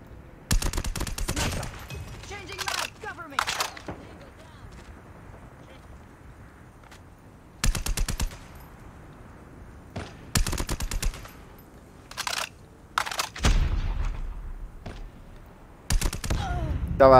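Loud bursts of automatic gunfire from Call of Duty: Mobile erupt repeatedly, short volleys separated by quieter stretches of game ambience, with several clusters of rapid shots spread throughout.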